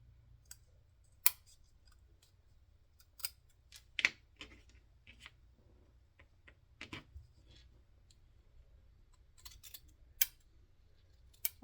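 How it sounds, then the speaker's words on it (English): Scissors trimming a small upper corner of material in a quiet room, a sparse series of sharp, close snips and clicks spaced irregularly with long silent gaps between. "I do need to trim just a little bit on this upper corner."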